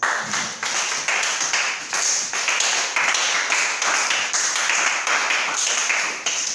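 A church congregation claps together in steady rhythmic applause praising the Lord, loud and sustained for several seconds with a few faint voices mixed in.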